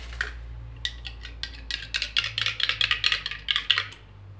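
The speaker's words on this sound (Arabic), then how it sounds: "غادي ناخذ هذه القهوه سريعه الذوبان ونخلطها مع كاس تاع الماء" A spoon stirs instant coffee into a glass of water, making quick, light clinks against the glass that speed up into a brisk, close rattle before stopping.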